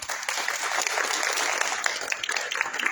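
Dense, steady applause from an audience at a public talk, many hands clapping together at an even, full volume for the whole stretch with no pauses.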